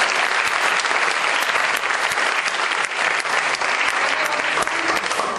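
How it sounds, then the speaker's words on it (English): Theatre audience clapping at the Prithvi Theatre Festival, a dense, loud, continuous wash of applause from a large crowd, holding steady throughout without talk. "Now you can clap."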